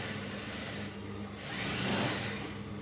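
A sewing machine stitches a shirt placket line in sky blue thread, a quiet, steady hum that swells slightly toward the end, heard alone without talk.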